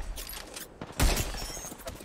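Enemy gunfire in the battle royale shooter Apex Legends during a ranked match: a burst of overlapping shots, loudest near the middle, then scattered lighter fire continuing underneath.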